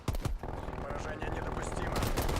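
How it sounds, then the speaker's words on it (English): Automated sentry turret firing in a video game, a dense burst of rapid gunfire that runs steadily throughout, mixed with busy game sound and some voice. "Hostile sentry turret active."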